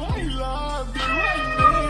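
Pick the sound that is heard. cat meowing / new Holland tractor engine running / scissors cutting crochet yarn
cat meowing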